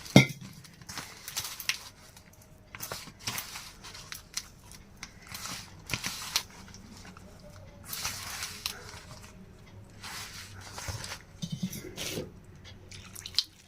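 Hands knead chapati dough while water is added little by little, giving quiet, irregular bursts of soft wet squelching and pressing.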